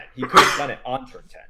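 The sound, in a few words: sneeze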